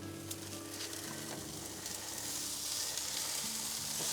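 Steak and tomatoes sizzle on a grill in a steady, crackling hiss with fine popping, close and continuous, growing slightly louder toward the end, with no talk.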